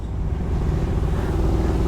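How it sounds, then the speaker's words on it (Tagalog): A motorcycle engine idles and rumbles on a cold mountain road in Benguet, warming up, with a steady, loud, close low-end drone throughout and no speech. "Medyo nagpapahit pa kami ng makina kasi sobrang lamig ng mga engine namin."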